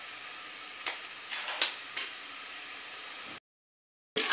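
Cut potatoes and capsicum hiss and sizzle in a cooker on a gas flame for dry aloo shimla mirch, with steady frying noise and a few stirring scrapes before a brief silence.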